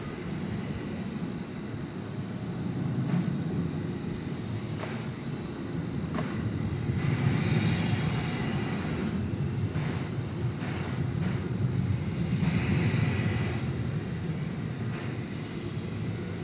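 An MD-11 jet climbs out of DFW Airport at night, a distant, steady low rumble of engines with wind buffeting the microphone, holding at moderate loudness for about sixteen seconds without talk.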